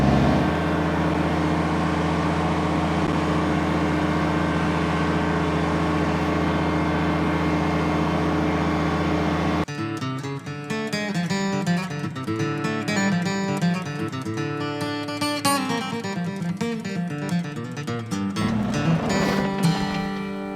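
A Kubota BX subcompact tractor hauls a full firewood tote around a wood yard. Its engine holds a steady, droning hum, then shifts partway through to a rougher, varying rumble, with no talking.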